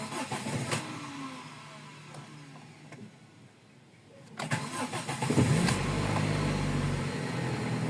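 A Toyota 4AFE car engine cranks and catches, then settles into a steady, fairly loud idle with a faint fault in the idle, heard close by without talk.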